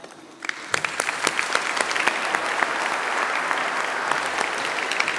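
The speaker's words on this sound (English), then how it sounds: "I'd like to give Ellen a very big round of applause and a little gift" An audience at a Melbourne Mining Club event gives a sustained round of applause, steady clapping from many hands filling the room for several seconds.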